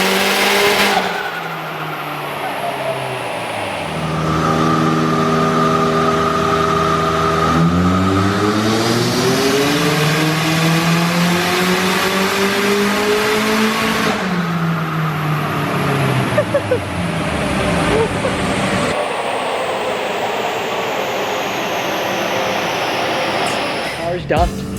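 A high-mount turbo Mazda MPS revs hard on a dyno, its loud engine note climbing, falling and sweeping up again in long sustained pulls, with a harsh turbo roar filling the room throughout.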